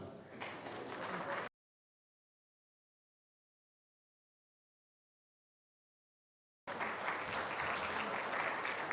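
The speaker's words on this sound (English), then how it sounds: "Please give them a huge round of applause, ladies and gentlemen." An audience at a Queensland boxing hall of fame ceremony applauds loudly, then silence falls for several seconds before a second burst of sustained clapping and cheering.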